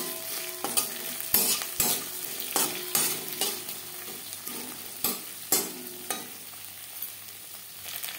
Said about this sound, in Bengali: কারি পাতা সাবধানে ভাজবেন, তেল ছিটতে পারে।